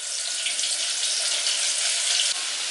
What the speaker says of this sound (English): Now, you can hear it sizzle straight away.